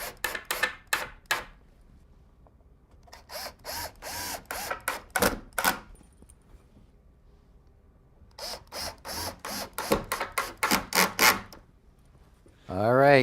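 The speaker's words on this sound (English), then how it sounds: "let me put a couple screws up in there" A power drill drives screws into a metal frame in a home repair setting, giving clusters of sharp ratcheting bursts separated by quiet gaps, and a voice speaks briefly near the end.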